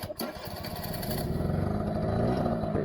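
Honda NU50 moped engine coughs into life after a sharp click, then settles into a steady, buzzing small-engine idle that grows slightly louder and stays close and continuous.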